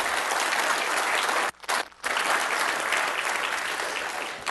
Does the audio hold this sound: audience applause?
yes